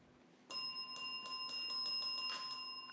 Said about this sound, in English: that bell ends the match